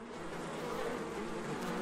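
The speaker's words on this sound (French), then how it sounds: "Mais comment atteindre les rayons de miel défendus par ces milliers d'abeilles?" Thousands of honeybees buzzing around their hives: a dense, steady drone of many wings, continuous and fairly close, with no voices.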